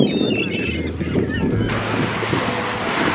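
Sea waves wash steadily onto a beach in the Netherlands as a continuous broad roar with wind buffeting the microphone, with some faint voices and cries in the background.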